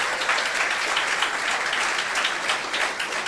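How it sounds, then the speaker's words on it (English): Sustained, dense applause from an audience in a university library during an event in Nairobi, steady and loud throughout with no pauses. "Big round of applause for my friend Musalia."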